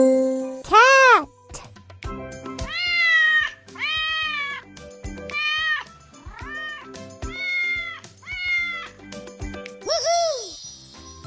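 A cartoon cat meows repeatedly in a kids' jigsaw puzzle game, with about eight clear, evenly spaced meows followed by a bright chime at the end.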